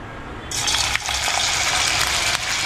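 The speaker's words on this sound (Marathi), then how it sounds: "गोंयटा फोडी आता तळता" Marinated fish slices hit a hot frying pan and burst into a loud, steady sizzle that starts abruptly and keeps hissing close by without a break.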